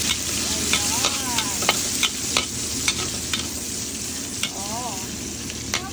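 Garlic and dried anchovies fry in a pan with a continuous crackling sizzle, punctuated by scraping strokes of a spatula, heard close up with faint voices in the background.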